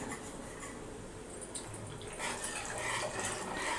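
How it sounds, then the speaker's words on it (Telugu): Cornflour mixed with water is poured into a pot of spicy chicken soup, a soft splashing trickle that swells louder partway through against faint kitchen clatter. "కార్న్ఫ్లవర్ ఇందాక మనం కలిపెట్టుకున్నాం కదా వాటరు ఇప్పుడు అవి దాంట్లో పోసేసేయాలి"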